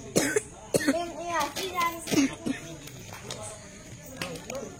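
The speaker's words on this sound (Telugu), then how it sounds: "పిల్లగానికి దగ్గు కలిగింది" A child coughs several times in short bursts at a birthday celebration, close by, with other voices talking around the coughs.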